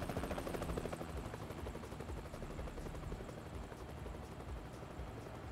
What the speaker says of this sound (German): Hubschrauber!